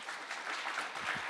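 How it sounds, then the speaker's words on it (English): An audience at a live health talk in Washington claps in a brief, faint, even patter. "You guys are clapping for yourself"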